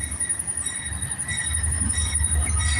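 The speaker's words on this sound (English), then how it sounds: "We got a train coming down the tracks." A train rolls along the tracks with a steady low rumble of wheels and cars, bright high squealing tones riding on top, continuous and fairly close throughout.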